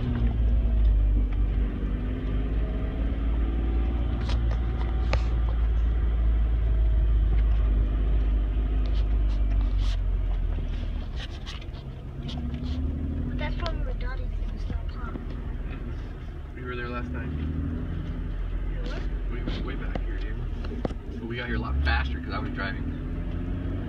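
Car with a manual clutch driven in Anza Borrego State Park, a steady low engine rumble throughout with road noise, shifting slightly in level midway.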